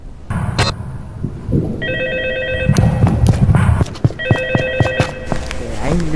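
A telephone in the video game Baldi's Basics in Nightmares rings in two sharp electronic bursts, loud and close, amid game thumps and footsteps while a player talks.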